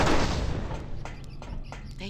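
A grenade blast in The Suffering opens with a loud, broad boom that decays over about a second, followed by scattered thuds and a voice speaking briefly afterward.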